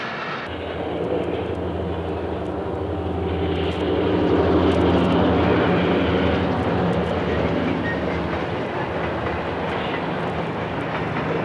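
Nickel Plate Road Berkshire steam locomotive 751 rumbles past East Blair Yard at Fostoria at a steady roar, heavy and continuous, swelling slightly as it nears and then holding on.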